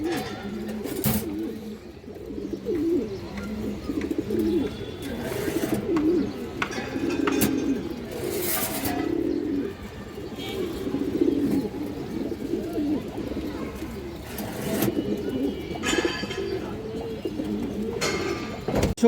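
Several pigeons, including a female high-flyer type, coo steadily in a loft, with overlapping low throaty calls and occasional wing flutters close by throughout, with no talking.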